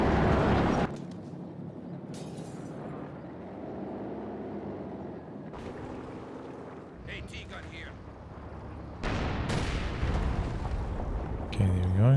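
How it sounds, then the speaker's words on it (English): A mine detonates in Company of Heroes 2 after an attack-ground order, heard as low booming blasts and rumbling amid battle noise, with a louder burst late on. "Triggers a mine with the attack ground"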